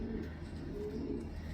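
A male racing pigeon gives a soft, low coo, close but quiet, against a faint background hum.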